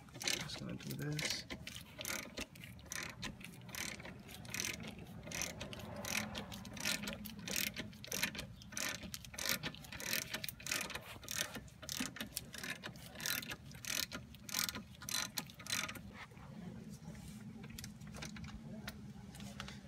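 Repeated fast clicking of a ratchet wrench taking bolts off during a car brake change, close and fairly quiet, in steady runs with brief breaks, while people talk over it.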